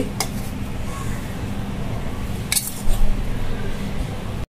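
Freshly ground garam masala spice powder is scooped out with a metal spoon, giving light scraping and clinking against a container, with a couple of sharper clinks and a brief louder scrape near the end.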